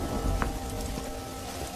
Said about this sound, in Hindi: ये बेमौसम की बारिश और शुरू कर दी?